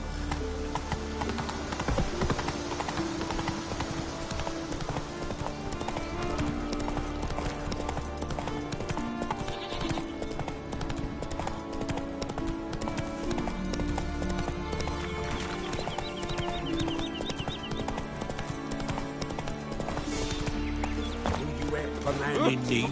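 Horse hooves clip-clop in a steady galloping rhythm in The Witcher 3: Wild Hunt, close and continuous for the whole stretch, with an occasional whinny and game music layered underneath.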